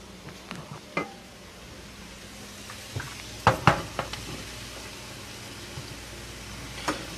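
Heavy cream is whisked into a roux for Alfredo sauce: quiet sizzling under scattered metallic clicks and scrapes of a whisk against the pan, with a few louder taps in the middle.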